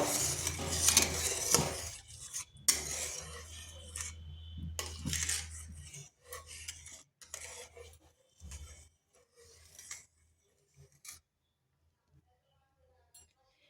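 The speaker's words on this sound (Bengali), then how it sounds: "এরপর ভালোভাবে লবণটা জলের সাথে মিশিয়ে নেব।" A spoon scraping and clinking in a bowl as ghee and salt are stirred into water, with rapid rasping strokes at first, then sparser clinks and scrapes that thin out toward near silence.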